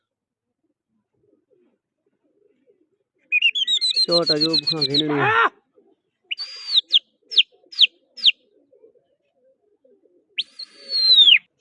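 Pigeons at a pigeon-flying competition give a short burst of cooing and chirping calls, near and fairly loud, followed by several brief whistled chirps and a final call, with a voice speaking briefly.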